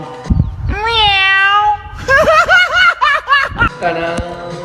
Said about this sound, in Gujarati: એમ જો મિયાઉ